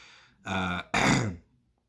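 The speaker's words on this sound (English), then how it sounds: "I had to clear my throat a little bit." Two short, rough throat-clearing bursts come one after the other at close range, each harsh and full, with no talk around them.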